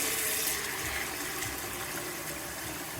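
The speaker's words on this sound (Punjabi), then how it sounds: "ਇੰਨਾ ਕ ਮੈਂ ਠੰਡਾ ਪਾਣੀ ਪਾਇਆ ਇਹਦੇ ਵਿੱਚ" Cold water pouring into a tub to wash a suit: a steady, close gushing rush that runs through the whole short stretch without talk.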